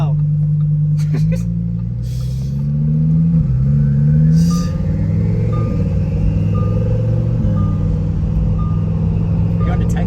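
A twin-turbo Lamborghini engine pulls hard with a deep, steady drone whose pitch rises and shifts through the clip, while voices talk over it inside the car.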